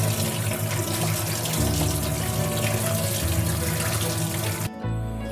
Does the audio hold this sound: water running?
yes